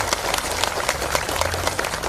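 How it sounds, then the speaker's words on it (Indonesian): Applause from an audience at an Indonesian public gathering, a dense wash of many hands clapping steadily and fairly loud for a couple of seconds, with no voices standing out. "kita berikan tepuk tangan sebagai tanda terima kasih"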